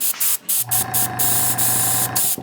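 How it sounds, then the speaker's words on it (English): An airbrush sprays Molotow liquid chrome paint, a steady hissing rush of air with a low hum that runs close and loud for about two seconds after a brief start, with short breaks. "this is just a little Molotow liquid chrome into my airbrush"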